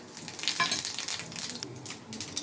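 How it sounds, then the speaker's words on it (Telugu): Tempering spices crackle and sizzle in a hot pan before garlic and cumin go in, with a steady frying hiss broken by light clinks of stirring, close by and free of talk. "పప్పు ఉడికిపోయింది కాబట్టి అది రుబ్బుకునే లోపు తాలింపు వేసేసుకుందాం"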